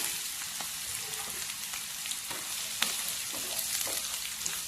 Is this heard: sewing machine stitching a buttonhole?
no